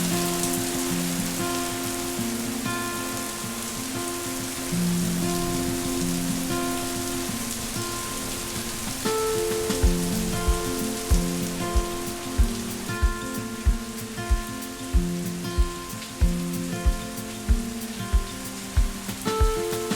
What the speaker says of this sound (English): it is raining like coming down in buckets